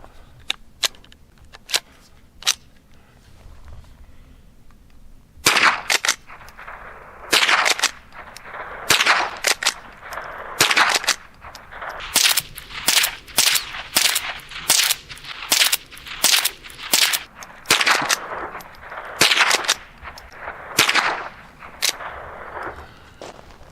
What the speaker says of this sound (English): I'm going to take the safety off, and I'm going to cycle through 15 rounds.